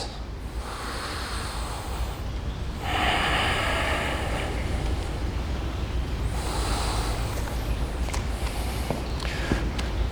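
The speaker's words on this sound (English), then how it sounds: "deep, intentional breaths." Slow, deep breaths during a yoga flow, each long inhale and exhale rising and fading in a steady rhythm, heard close and alone with no talking.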